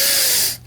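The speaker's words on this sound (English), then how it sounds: "big cocaine sniff there" One loud, close, hissing nasal sniff that lasts about half a second and then cuts off abruptly.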